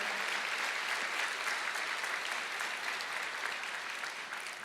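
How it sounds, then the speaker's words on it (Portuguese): A church congregation breaks into continuous applause, a dense, steady wash of clapping from many hands that fills the room for several seconds without pause, easing slightly toward the end. "Vamos aplaudir ao Senhor."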